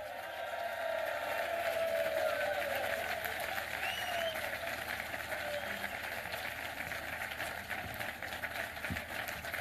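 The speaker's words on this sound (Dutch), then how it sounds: "graag uw applaus voor de voorzitter die iedere partij ons benijdt, Tom van Grieken" A large crowd at a Vlaams Belang party rally in Flanders applauds the party chairman, Tom van Grieken, with steady, continuous clapping that fills the hall, slightly distant and holding evenly throughout, with no talk over it.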